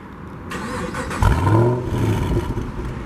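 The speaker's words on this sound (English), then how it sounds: "And you get that beautiful V8 startup." A 2015 Chevrolet SS V8 fires up by remote start, a short crank followed by a deep, loud revving roar that settles into a throaty idle, close by with no talking.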